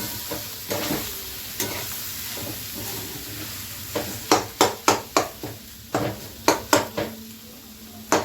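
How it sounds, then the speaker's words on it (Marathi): Spices for paneer bhurji are stirred in a pan over a low flame, a soft sizzle underneath a run of rhythmic, clattering spatula strokes against the metal, close and fairly loud. "गॅस बारीक करून घ्यायचं. पण सगळे मसाले एकत्र चांगलं मिक्स करून घ्यायचं."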